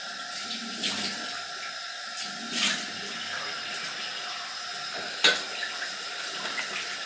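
A tap runs steadily into a sink while water is drawn for wet shaving, a continuous close splashing stream with a few small knocks and clatters.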